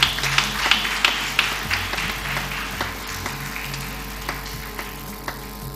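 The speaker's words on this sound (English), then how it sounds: "Are we clapping for Jesus?" A church congregation claps, a run of uneven, overlapping hand claps over a low hum that starts fairly strong and fades over a few seconds.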